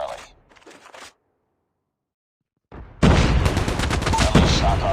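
Automatic assault rifle fire, a BK-57 or ASM-10, in a first-person shooter erupts loud and sustained in dense bursts after a brief game voice line and a silent gap.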